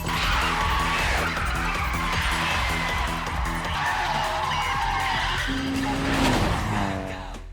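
A car drifting through a race with tire squeal and skidding over a steady, loud engine drone, rising tire screeches toward the end, continuous and close.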